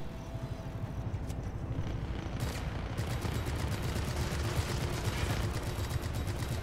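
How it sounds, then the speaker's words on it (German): Rapid gunfire in Just Cause 3, dense bursts of shots and explosions over a steady engine-like rumble, continuous and loud throughout. "Scheiße, das war der letzte Schuss und der ging daneben"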